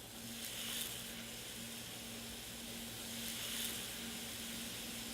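Green burger patty sautéing in a little oil on a preheated, very hot griddle, giving a steady, close sizzle and hiss that runs continuously with slight swells and no talking.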